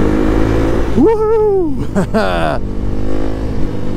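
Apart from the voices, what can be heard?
Kawasaki KLX 300 motorcycle exhaust revving in tunnel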